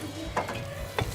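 Ghee hits chicken karahi in a handi, giving a soft sizzle with two brief stirring scrapes, quiet and close, with no talking.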